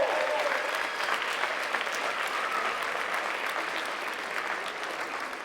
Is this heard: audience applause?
yes